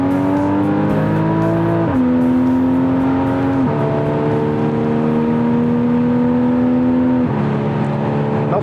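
Porsche Boxster S accelerating hard on the Nürburgring Nordschleife, a loud in-car engine note rising in pitch through each gear, dropping at shifts around two, four and seven seconds, with steady road roar beneath.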